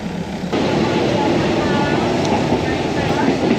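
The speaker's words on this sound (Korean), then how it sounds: "아 드디어 출발한다 태국에서 떠나는 첫 기차 여행 출발해 보도록 할게요" A train pulls out of a station in Thailand on a trip from Bangkok to Ayutthaya, a steady loud rumble and rolling rail noise rising sharply after a brief quieter start and holding constant throughout.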